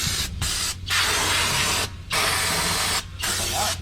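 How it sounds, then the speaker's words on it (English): Aerosol spray squirted inside a tire to set the bead, in four close, loud hissing bursts of about a second each, broken by brief pauses. "We put a little the spray inside here, and this is just to set the bead."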